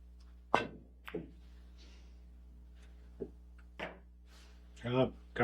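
Pool cue ball struck with right English on a billiards table, sharp close clicks of cue tip and ball contact spaced apart in a quiet room, with faint thuds of balls between.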